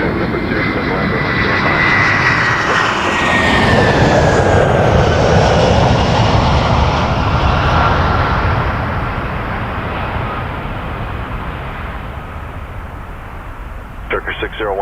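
A Turkish Airlines heavy jet roars on departure from Toronto Pearson Airport, a loud sustained engine rumble with shifting whine that swells, then slowly fades as the aircraft climbs away.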